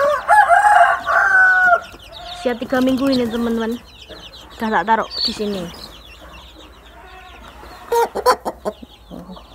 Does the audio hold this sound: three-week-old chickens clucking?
yes